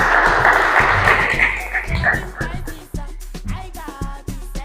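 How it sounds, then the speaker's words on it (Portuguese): An audience at a junior speaker event in Lubango gives a burst of applause that fades after about two seconds, then voices talk over the remaining patter of hands. "Palmas, por favor."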